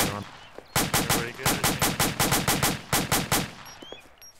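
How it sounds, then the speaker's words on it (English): Rapid bursts of tracer rounds fired in a forest-clearing video game firefight, about a dozen loud evenly spaced shots in quick succession, then a quieter tail of distant pops. "I'm firing tracers."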